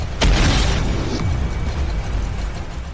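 Explosion effect in an animated story: a sudden heavy boom with a sharp onset, followed by a loud rumbling roar that slowly fades and lingers.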